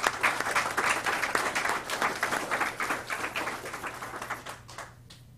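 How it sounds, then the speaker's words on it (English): A crowd claps at a career signing day at a technical college, steady and moderately loud, thinning out and stopping after roughly five seconds. "Let's give him a round of applause."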